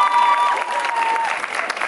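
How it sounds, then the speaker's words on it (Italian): A crowd at an outdoor student-rights demonstration in Cittanova claps in dense, continuous applause for about two seconds. "Applauso!"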